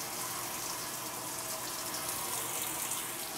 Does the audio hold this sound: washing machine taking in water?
yes